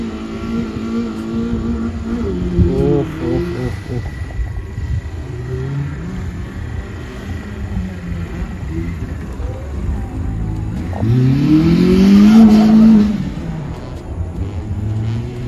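A Mercedes car on a dirt track at an autocross rally revs and races, a steady engine rumble with a louder, rising surge near the end, under crowd noise.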